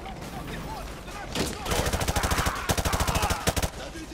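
Rapid automatic gunfire in the Call of Duty: Modern Warfare 2 campaign, loud sustained bursts of evenly spaced shots over a busy battle background, with faint voices underneath.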